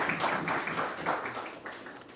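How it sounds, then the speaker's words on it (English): Audience applause for an award recipient at a youth awards ceremony, a steady wash of many hands clapping at moderate loudness for about two seconds with no pause. "Clap, clap, clap, clap, clap."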